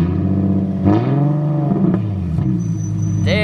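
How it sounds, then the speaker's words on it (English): A Nissan 370Z with a straight-pipe exhaust running straight from the catalytic converter idles loudly, then revs in a couple of rising and falling surges, raspy and close. "Rev it a little bit."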